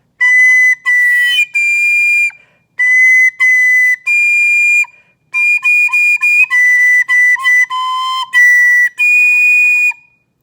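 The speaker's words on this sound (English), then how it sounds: "this is what it would sound like if I was playing with curvy fingers." A soprano recorder played with curved fingers plays Hot Cross Buns, and the tones come out shrill and squeaky with a breathy edge. Short bursts of notes are separated by pauses, then a run of quick repeated notes follows.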